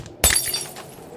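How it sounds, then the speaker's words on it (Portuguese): Glass shatters in a hand-drawn horror video game: one sharp, bright crash that rings out and fades over about a second, heard alone. "Vidro quebrado."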